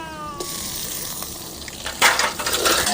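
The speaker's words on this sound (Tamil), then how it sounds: "பச்சை மிளகாய் பூண்டு நல்லா பொரியணும்" Chopped green chili and garlic frying in oil in a pan, a constant crackling hiss that grows louder and brighter toward the end; no talking.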